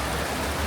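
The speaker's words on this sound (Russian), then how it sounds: "Вот они теплые, вот эти термальные источники сливаются." Warm thermal spring water flowing and merging in Tbilisi, Georgia, a steady, close, broadband rush with no voices over it.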